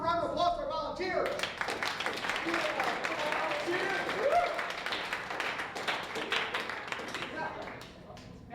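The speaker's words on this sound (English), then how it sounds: "first let's give a round of applause for our volunteers." Audience applause for volunteers at a hypnotist's stage show: after a short spoken lead-in, a steady wash of clapping rises and holds for several seconds before thinning out, with voices mixed into the noise.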